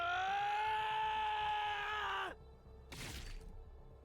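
A bestial scream in The Hundred Line: Last Defense Academy sounds as a loud, sustained, strained howl that cuts off abruptly, followed after a short pause by a brief burst of harsh noise like a slash.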